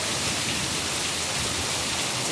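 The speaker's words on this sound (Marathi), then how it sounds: "कसे एकदम जोरदार पाऊस पडतो आहे" Heavy rain pours down in a Mumbai storm, with water streaming off a roof edge in thick runs: a steady, dense, loud hiss that never lets up, with no voices.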